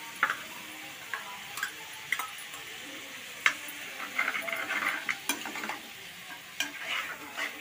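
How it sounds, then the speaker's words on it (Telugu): Ginger garlic paste going into mutton paya in a pan, heard as a quiet sizzle under scattered light clicks and scrapes from a spoon stirring, close and fairly soft. "ఇప్పుడైతే అల్లం వెల్లుల్లిపాయ పేస్ట్ వేసుకుంటానండి"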